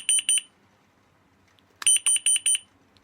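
A Raholy carbon monoxide detector with an LED display gives two loud bursts of shrill, pulsing electronic beeps. A pair of quick beeps comes first, then a run of four after a short quiet gap.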